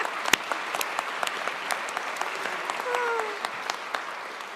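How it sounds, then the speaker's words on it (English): An audience at a press announcement applauds with scattered, crisp claps that stay fairly steady throughout, while a voice speaks briefly in the middle. "Let's see if we can clap louder in French."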